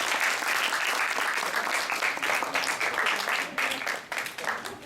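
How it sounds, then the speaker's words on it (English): An audience at an academic English program event in a hotel hall claps for an honored guest, a loud, dense round of applause that holds steady before thinning out near the end. "Please give him a round of applause"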